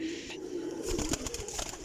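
White pigeons kept as pets, one with red eyes, give a low, soft cooing close by, a single brief murmuring call over faint background rustle.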